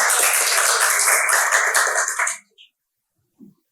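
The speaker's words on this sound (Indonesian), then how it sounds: "tepuk tangan dulu teman-teman" Friends in a studio audience give a dense, loud burst of clapping that lasts about two seconds and then stops abruptly, leaving near silence with a couple of tiny noises.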